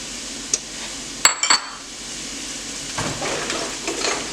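Onion with red and green bell peppers frying in a pan, a steady soft sizzle carrying on throughout, broken by a few sharp clinks of a utensil against the pan near the start.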